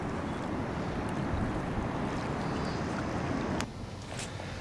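Steady broadband wind roaring across the microphone outdoors at Quail Lake, continuous and loud, dropping slightly toward the end.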